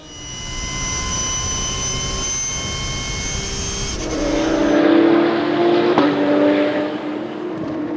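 Porsche race cars at speed on the Paul Ricard circuit along the Mistral straight, a high, steady engine whine that builds into a loud roar as cars pass close, then fades.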